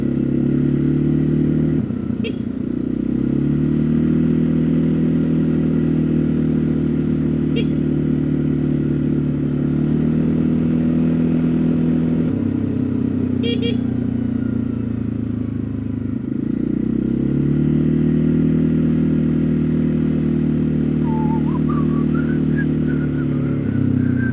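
A Snarler motorcycle being ridden during its break-in on farm-field tracks, a steady, loud engine drone close by that dips and rises with shifts in throttle, with a light rattle now and then and no talk.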